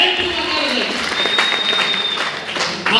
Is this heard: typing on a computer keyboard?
no